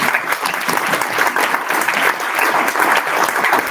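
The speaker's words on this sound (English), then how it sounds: "Let's give him one more round of applause." An audience at a dinner event applauds with steady, dense clapping that holds at an even level throughout, close and lively with no speech over it.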